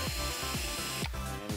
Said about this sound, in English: So I'll line up my first hole with this hole, and then drill the next one.